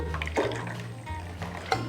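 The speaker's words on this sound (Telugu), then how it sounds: "ఇక్కడ కూడా కొన్ని నీళ్లు పోసి" Water pours into a pot of coriander rasam, a close continuous splashing gush with small bubbling bursts, heard alone without talk.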